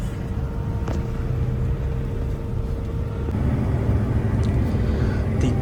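A bus pulls away from a stop in Solo on its run to Bandung, its engine a steady low rumble heard from close by, with faint background noise and no talk.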